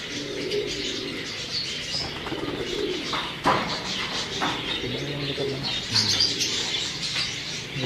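Teddy pigeons coo in soft, repeated low calls, mixed with chirps and a brief flutter of wings, close by, with people talking in the background.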